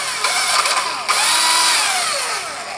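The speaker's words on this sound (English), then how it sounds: "from this drill that I made lithium battery for" Cordless drill powered by a homemade lithium battery pack in place of nickel-cadmium cells, whirring loudly up to speed, briefly dipping, then revving again and slowly winding down, close and alone.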